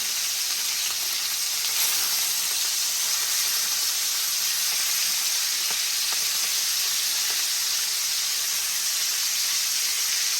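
Steak sears in a hot pan with a steady, bright sizzling hiss that runs unbroken and fairly loud throughout, with no talking.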